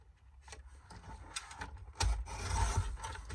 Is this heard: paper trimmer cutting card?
yes